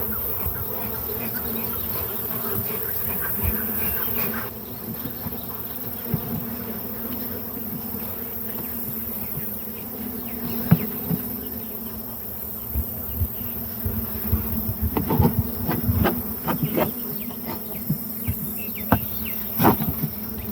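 Honeybees buzz in and around a struggling hive fitted with plastic foundation, a continuous low drone with occasional louder passes of individual bees close by.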